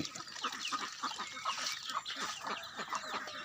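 Several backyard chickens cluck and call in a quick, repeated pattern, close but fairly soft, with overlapping bird voices and no talking.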